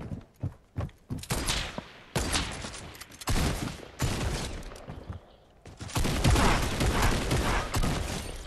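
Rapid bursts of gunfire in Fortnite Battle Royale, several sharp close shots early followed by dense sustained firing and clatter, loud and alone without talk.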